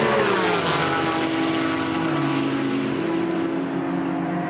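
GT4 race cars racing at Bathurst, with a loud, continuous engine roar whose pitch slowly rises and falls as the cars run together along the circuit.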